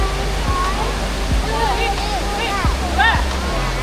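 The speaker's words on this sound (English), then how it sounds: "So this is the famous waterfall which everyone comes to see." Jewel Changi Airport's indoor waterfall in Singapore roars as a loud, steady rush of falling water, with chattering voices of the crowd mixed in throughout.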